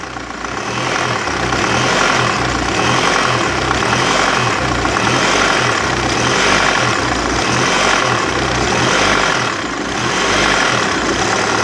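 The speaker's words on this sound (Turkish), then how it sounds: "bir de gaz verip bırakalım. Nasıl oynadığını gösterelim." Citroen C5 engine revving repeatedly after a newly fitted engine mount, loud and close with steady rises and falls in pitch across the clip and no talk over it.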